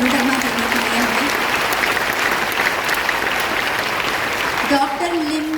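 Sustained audience applause for a speaker at a DXN Ganoderma health talk, steady and full throughout, with a voice briefly audible over the clapping near the end.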